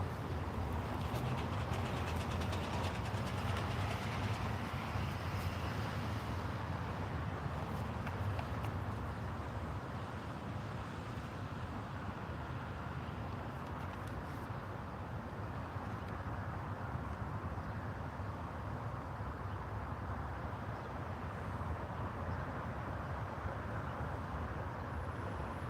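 Norfolk Southern freight train NS196, led by locomotive 8151, rolling south at speed in Soddy Daisy, a sustained broad rumble and rattle of railcars passing nearby, steady and moderately loud for the whole stretch.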